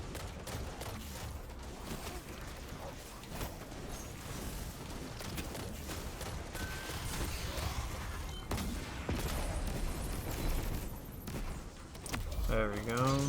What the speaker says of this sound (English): enemies shooting over here